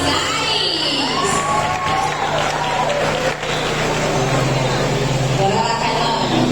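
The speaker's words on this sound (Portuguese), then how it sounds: "Uma salva de palmas para esses casais." A crowd at a women's retreat program cheers and shouts for couples, steady loud cheering and shrill voices with some applause mixed in, continuous throughout.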